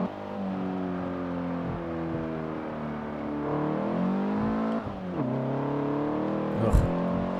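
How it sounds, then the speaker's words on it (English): Honda Civic Type R engine revs hard and bounces off its rev limiter in Forza 7, a loud sustained buzzing drone with rising pitch sweeps and brief stutters as it hits the cut. "It's not a Honda unless you're bouncing off the rev limiter."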